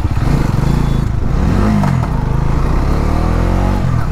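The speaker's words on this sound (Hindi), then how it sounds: "इस बाइक का ना गियर का साउंड बहुत ज़्यादा टक टक टक टक करके साउंड आता है गियर का जब चेंज करते हैं" Motorcycle ridden through a city market area, its engine running loud and steady with revving and some mechanical clatter that fits a gear change.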